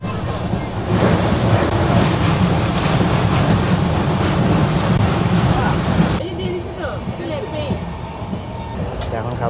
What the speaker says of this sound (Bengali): এটা নতুন ট্রেন, এই ট্রেনে এখনও পর্যন্ত নামও প্রিন্ট করা নেই, একদম এলএসবি কোচের নতুন ট্রেন